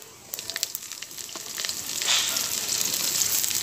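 Shredded cabbage dropped into hot oil with whole cumin, crackling in a few sharp bursts before settling into a steady, fairly close sizzle that grows a little louder.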